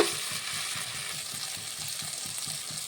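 Cumin powder, garlic and spices frying in oil before meat goes in for a home meat curry, a steady close sizzle with soft rhythmic stirring scrapes throughout, no talking.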